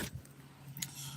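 Keys jangle briefly in a pocket during a chauffeur's livestream, a faint close metallic rattle over low engine-like hum, with no talk.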